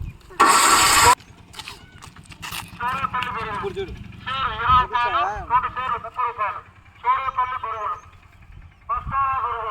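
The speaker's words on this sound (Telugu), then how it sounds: "బండి స్టార్ట్ అయిపోతుంది బండి స్టార్ట్ అయిపోతుంది ఇది బటన్ సిస్టమ్ అంట" A vehicle with push-button start is started: a brief loud burst of cranking noise, then a steady low engine hum running beneath children's excited chatter throughout.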